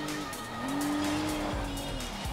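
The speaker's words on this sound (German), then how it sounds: "Bisschen driften geht auch" A car drifting in Forza Horizon 3 lets out a sustained tire squeal over a steady engine drone, the screech holding then dropping away, with a shorter squeal returning near the end.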